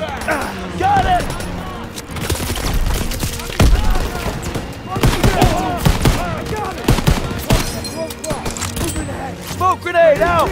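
Rapid bursts of gunfire in a video game battle at a church ring out close and loud in a sustained fusillade, with shouting voices over the shots.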